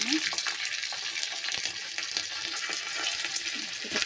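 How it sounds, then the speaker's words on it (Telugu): Curry leaves crackle and sizzle loudly in hot oil, a dense steady spatter with occasional stirring clinks, no talking. "ఇప్పుడు ఇదే పోపులో ఒక తీసుకున్న కరివేపాకులు కొన్ని ఉన్నాయి కదండి అవి వేసుకుందాం"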